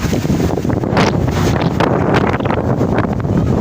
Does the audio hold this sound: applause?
no